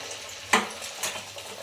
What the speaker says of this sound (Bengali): তবে একইভাবে সবগুলো ভেজে নেব